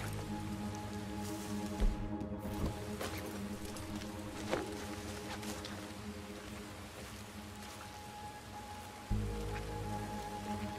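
Rain falls in the video game Red Dead Redemption 2 as a constant patter on surfaces, with occasional soft thuds and faint hoof clops beneath it.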